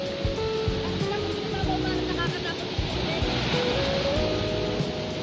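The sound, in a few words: strong ocean waves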